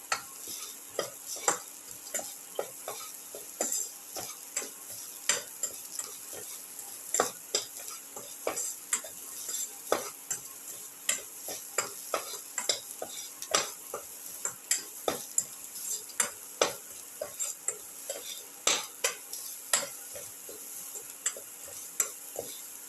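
An egg, snake gourd and shallot mixture sautéing in a pan: a faint steady sizzle broken by frequent sharp ticks and scrapes of a spatula stirring, with no talk.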